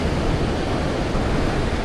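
Sea waves wash against a beach embankment in Vietnam, a dense, continuous roar of surf with wind, loud and near, without voices.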